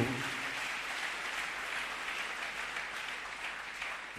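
A church congregation applauds steadily, a dense, even clapping from many hands that continues throughout without a break.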